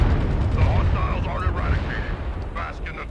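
Mech weapons in MechWarrior Online, a Hunchback IIC-A laser build, fire in a dense stretch of rumbling blasts and crackling bursts that stay loud and continuous throughout, with game noise layered over the top.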